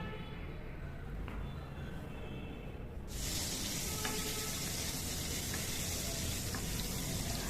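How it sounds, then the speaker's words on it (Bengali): Potatoes hit a little hot oil in a kadai (wok) and set off a loud, continuous sizzle that starts suddenly partway through and holds steady. "এবার কড়াইতে সামান্য তেল দিয়ে আলুগুলোকে হালকা সোনালি করে ভেজে তুলে নেব"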